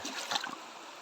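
Rust-coloured water pours into a small stream in the mountains of Nakar, Quezon, a soft, steady trickling and splashing heard close by for about a second.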